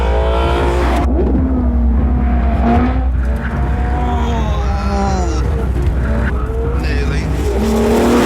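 A car skids around a race track with its traction control switched off, loud engine roar and squealing tyres rising and falling throughout, with someone talking over the top.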